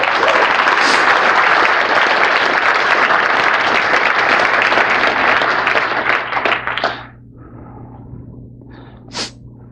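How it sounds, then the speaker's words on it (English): A conference closing-session audience gives a loud, dense round of applause for the AV crew, steady for about seven seconds before fading into scattered claps and room murmur. "So give them a round of applause."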